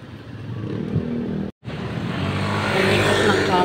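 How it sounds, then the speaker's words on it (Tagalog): Steady roar of many cars on a busy street at evening rush hour, a continuous close wash of engine and tire noise that briefly cuts out before swelling again. "Ang daming sasakyan sa kalsada."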